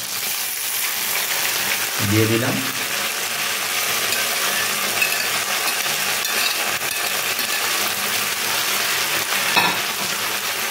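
Fried potatoes and onion stalks tipped into a hot pan and stirred, giving a steady sizzle throughout with a brief clatter as they go in near the start, and a short spoken remark.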